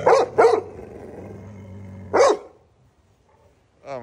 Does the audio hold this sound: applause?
no